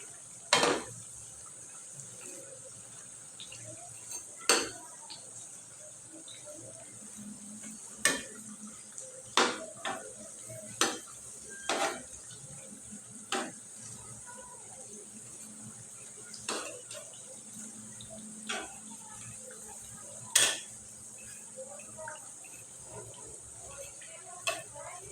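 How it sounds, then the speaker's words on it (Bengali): Nimki, a sweet-and-spicy fried snack, frying in a pan, with a faint, steady sizzle running throughout, broken by scattered sharp clicks and taps of a utensil against the pan. "সব মিলে আমি এরকম করে ভাজে নেব।"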